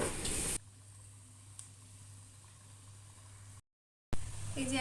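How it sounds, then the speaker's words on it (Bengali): Sweets fry in hot oil with a steady, close sizzling hiss, louder bursts at the start and end and a brief silent gap near the end. "এখন এগুলোকে তেলে ভাজতে হবে"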